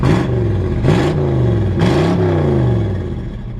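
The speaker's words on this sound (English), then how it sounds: "So you can hear that the engine runs good and it runs strong" A 1963.5 Ford Galaxie 500 R Code V8 running with no muffler fitted, loud and close, its raw rumbling exhaust rising in three quick revs before settling back to a throaty idle.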